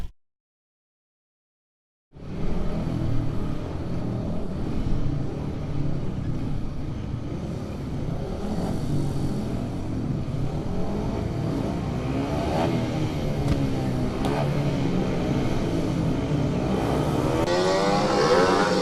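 Speedway motorcycles racing: a continuous loud roar of engines revving and whining past, heard from trackside, starting abruptly after a brief silence and building steadily with no talk.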